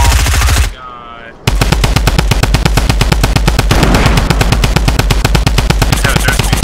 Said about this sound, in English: I just shot him with the pump for this far and I killed him